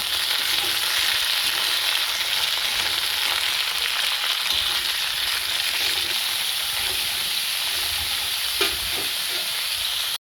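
Rohu fish pieces frying in oil in a pan, a loud continuous close sizzle and crackle with a couple of faint clinks near the end, no voices.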